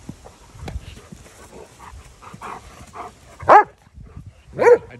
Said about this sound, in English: Bark too.